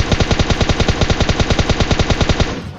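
Sustained automatic gunfire in a battle royale video game, a loud, close, rapid and even burst of around twenty-five shots that cuts off at the end.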